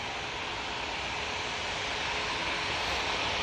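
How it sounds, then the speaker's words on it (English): Boeing 737 MAX 8 jet taking off from Manchester Airport for Berlin, a steady, loud broadband engine roar that holds and swells slightly throughout, with no talk over it. "Off to Berlin we go with this 737 MAX 8."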